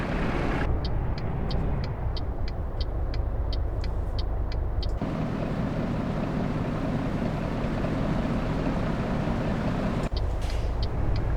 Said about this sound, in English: Where are you going, Mr. Greyhound bus, I wonder?